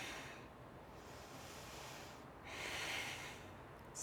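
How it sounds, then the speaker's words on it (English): Steady breathing during a gentle yoga practice, with a stronger sniffing inhale and exhale around the middle, close and fairly quiet with no talking. "So important to breathe."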